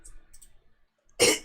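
A single sharp, close cough bursts out after a stretch of near silence as a player settles in to start a game session.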